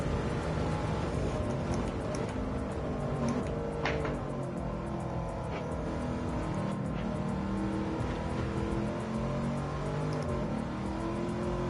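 A race car engine in Gran Turismo 7 on PS5 drones and revs steadily, pitch climbing and dipping through gear changes, with faint tire noises and no talking.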